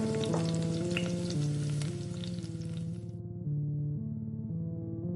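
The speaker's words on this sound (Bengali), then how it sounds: "মিতা সাধু বাবার দেওয়া তেলে মাছ ভাজতে লাগলো" Fish sizzles and crackles in hot oil in a cartoon kitchen, the frying hiss steady at first before cutting off abruptly, while a looping music bed plays underneath.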